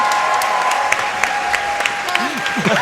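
A live audience at a Summer Games Done Quick 2015 speedrun marathon claps in steady, dense applause, with scattered sharp claps on top and brief voices near the end.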